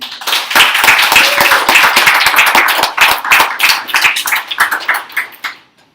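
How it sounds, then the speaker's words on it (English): Audience clapping at a Latin America solidarity forum as a panel on neocolonialism is introduced, a loud, dense burst of many hands that holds steady for several seconds before tapering off. "So round of applause for our panel."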